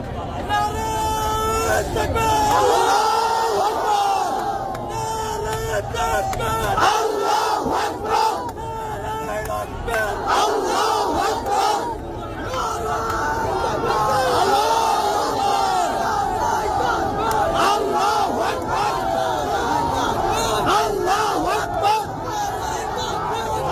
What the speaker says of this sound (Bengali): স্লোগান জোরে জোরে স্লোগান